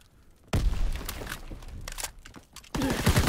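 Rapid bursts of gunfire crackle through a busy game soundscape, with sharp shots scattered over a steady rumble and a louder volley near the end.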